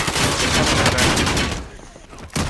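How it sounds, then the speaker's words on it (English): Sustained shootout gunfire in a first-person shooter game battle inside an apartment building, dense overlapping bursts of shots that are loud and continuous, then thinning out near the end. "Shoot him!"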